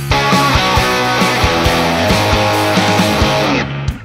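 An electric guitar wired for normal mono output plays a busy run of picked notes and chords, loud and steady, with no talking over it.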